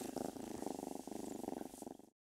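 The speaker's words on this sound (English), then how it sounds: "A mother cat and kittens." A mother cat and her kittens purr in a steady, rhythmic rumble of repeated pulses, close and fairly soft, with no talking.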